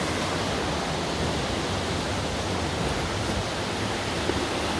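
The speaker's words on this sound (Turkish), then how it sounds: "suyun ana çıktığı yer şurası" Spring water gushes out at Kapız near Ermenek in a steady, full rush of broadband watery roar, constant and fairly loud, with no voices.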